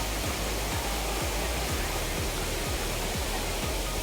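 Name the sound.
Soormane Falls waterfall at Kalasa, Chikkamagalur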